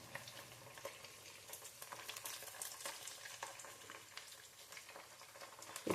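Leftover idli pieces frying in hot oil for idli manchurian, a steady crackling sizzle with scattered pops that holds for the whole stretch, close and moderately loud, with no voices.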